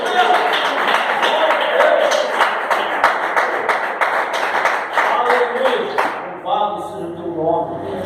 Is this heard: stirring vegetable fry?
no